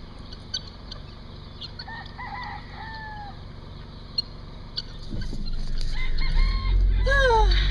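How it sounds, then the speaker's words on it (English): Guinea fowl crossing outdoors in the morning give a few harsh, rising calls, moderately close, with wind or rumble building toward the end. "Guinea fowl. Guinea fowl crossing."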